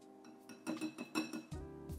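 Sugar-free, lactose-free cocoa cake batter being beaten in a bowl, heard as a few quick clinking, tapping strokes of utensil against the bowl, soft and close, ending with a low rumbling whir.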